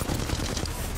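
Gunfire in the video game Apex Legends, a dense, continuous burst of rapid shots filling the whole moment, loud and close.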